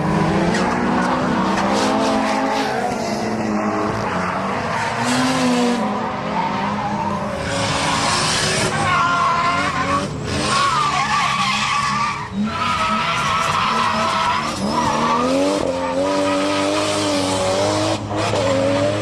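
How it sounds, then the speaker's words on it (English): D1 drift cars practicing at the Ebisu drift event, engines roaring loudly with continuous tire skidding and squealing throughout, revving rising and falling close by without speech. "The next day we saw some D1 cars practicing for the Ebisu event."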